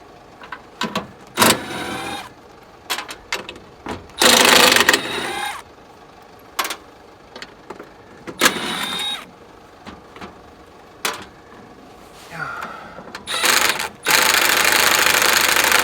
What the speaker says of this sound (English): Probably using power tools on everything.